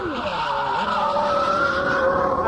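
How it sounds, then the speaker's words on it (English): A Jordan Formula One car spins after braking too late into a right-hander, its tyres squealing continuously and loudly while the engine note drops and wavers for the whole stretch. "we've set the Jordan up to be a little bit tail happy as we go into this right-hander, just to demonstrate how easy it is to spin"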